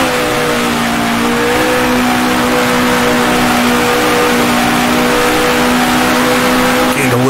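A 1966 Formula 1 race car engine in Grand Prix Legends, held in fourth gear, a loud, sustained, steady high-pitched drone, close and constant, with a brief change in tone near the end.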